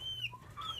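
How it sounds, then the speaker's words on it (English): Young roosters in a barn pen give short, high chirping calls, a few brief peeps close by over a low steady hum. "they look a little bit like little baby roosters to me"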